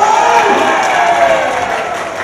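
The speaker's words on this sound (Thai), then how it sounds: "ขอเสียงปรบมือให้ตัวเองหน่ย" Crowd applause and cheering from a Thai audience at a live stage event, steady and loud throughout with no clear speech over it.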